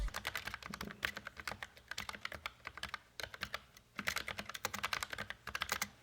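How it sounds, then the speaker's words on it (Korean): Typing on a Logitech mechanical keyboard made for Mac: rapid, crisp key clicks in steady close-up bursts with brief pauses between runs. "자판을 치면 쫀쫀하고 기계식 키보드 특유의 구분감도 잘 느껴져서"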